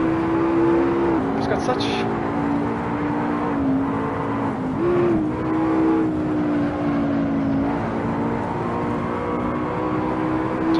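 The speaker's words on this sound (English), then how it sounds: "Accelerating like a rocket." Race car engine in the Assetto Corsa racing game revving steadily and climbing in pitch as it accelerates, with gear changes, a continuous loud drone under someone talking over it.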